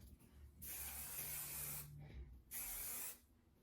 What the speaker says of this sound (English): all we're going to do is spray it on our damp hair